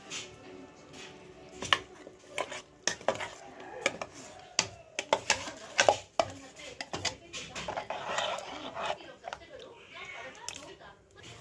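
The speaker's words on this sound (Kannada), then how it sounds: "ಈಗ ನಾವು ಕುಕ್ಕರ್ಗೆ ಹಾಕಿ ಕಲಿಸ್ಕೊಂಬಿಡೋಣ" Ground paste for toor dal sambar gets mixed in a pressure cooker with a spoon, making irregular clanks, scrapes and knocks against the metal pot while someone talks over it.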